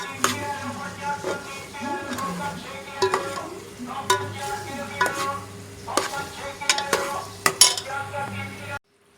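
Masala for chicken achar gosht sizzles and fries in a pot while a utensil stirs and scrapes it, with occasional clinks of metal against the pan, fairly close and steady, ending abruptly.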